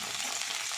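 Onion and coriander stir-frying in a pan for masoor dal, giving a steady, close hiss of sizzling oil with no voices.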